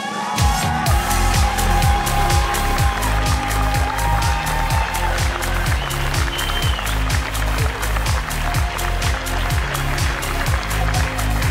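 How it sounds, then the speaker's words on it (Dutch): An audience cheers and claps for the winner of the Kinderprijs 2022 at an award ceremony, loud sustained applause over a thumping rhythmic music beat that runs throughout. "Groot applaus voor Xavi!"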